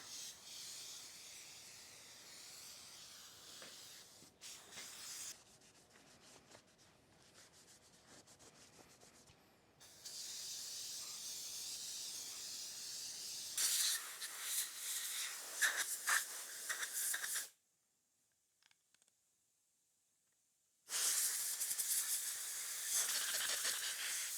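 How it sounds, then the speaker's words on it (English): Brake cleaner sprayed in hissing bursts onto the rotor of a 1972 Arctic Cat Panther 303 rotary snowmobile engine, with scrubbing in between and a short silent gap before a final spray. "I'm going to take some brake cleaner to it, clean off some more"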